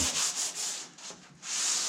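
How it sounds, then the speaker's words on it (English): Steady rasping strokes of a sanding block rubbing across a wooden cabinet, a back-and-forth rhythm with a brief pause midway, close and fairly loud. "You see how I'm sanding?"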